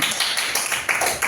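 Children in an Islamic studies classroom clap their hands together in a brief, dense burst of overlapping claps, fairly close and steady, with no talking over it.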